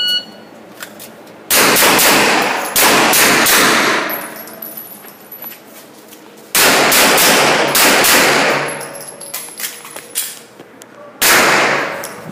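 Three loud, sharp shotgun blasts fire at a shooting range, each with a long ringing decay, spaced a few seconds apart with quiet pauses between.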